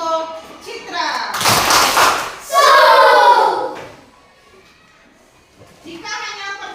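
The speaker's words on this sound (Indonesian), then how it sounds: "tepuk Superman untuk Citra" Children in a classroom perform a rhythmic clapping chant, with bursts of hand claps and thumps mixed with shouted voices, loud and close, then a brief lull before more voices.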